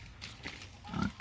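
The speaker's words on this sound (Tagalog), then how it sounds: "Ito yung baboy mga kalabarkada na binili natin." A live pig of about 82 kilos, bought at market for a house blessing, lets out a short grunt near the end of a brief, noisy stretch; low, close and fairly soft.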